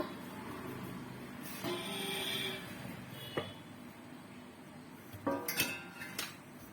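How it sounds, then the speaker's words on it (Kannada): A knife cutting sapota fruit, likely on a board in a home kitchen, giving a few scattered light knocks and scraping touches over a steady quiet background, with a brief cluster of clicks near the end and no voices. "ಸಪೋಟೋ ಹಣ್ಣನ್ನು ಇವಾಗ ಕಟ್ ಮಾಡ್ಕೋಬೇಕು ಕಟ್ ಮಾಡ್ಕೊಳ್ಳೋಣ"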